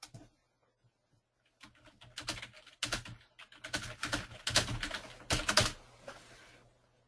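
Fingers typing on a computer keyboard during an online training call, with clusters of close, clicky keystrokes after a quiet start, fading at the end.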